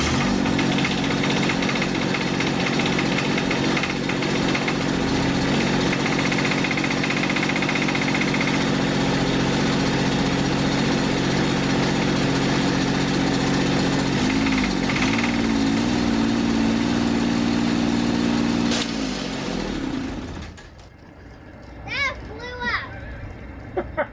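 A salvaged Kubota three-cylinder diesel engine runs steadily with a loud, continuous chugging rumble and knocking rattle, then cuts out abruptly near the end, leaving quiet background with brief voices.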